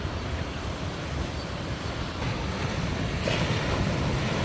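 Ocean waves roar at sunrise in a steady, full wash of surf with wind buffeting the microphone, swelling slightly louder toward the end, with no voices.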